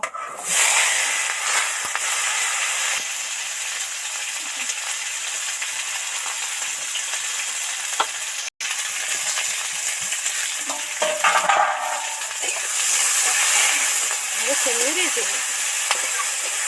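Ivy gourd greens and vegetables fry in oil in a pan, giving a loud, continuous sizzle with occasional stirring scrapes and clinks, steady throughout.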